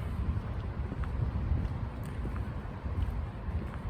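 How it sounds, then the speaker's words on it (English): Outdoor wind on a cold night, a steady low rumble and buffeting against the microphone lasting throughout with no voices. "Tonight is just beautiful outside and nice and windy."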